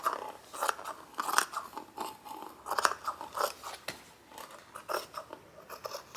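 Fabric for a cardigan being cut with scissors: repeated crisp snips and crunchy blade closes in an irregular rhythm, close and clear, with no one talking.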